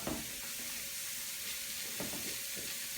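Ingredients sauté in a hot pan for feta-stuffed chicken breast, giving a steady, close sizzling hiss with a few soft stirring scrapes and no talk.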